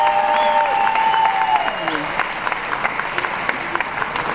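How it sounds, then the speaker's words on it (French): An audience applauds at a united-left municipal election rally in Brest, giving steady, moderately loud clapping throughout as a newly introduced speaker is welcomed, with a voice and some microphone tone heard over the applause. "je crois qu'on peut l'applaudir aussi"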